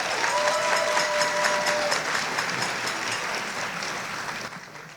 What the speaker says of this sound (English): So give her a little applause.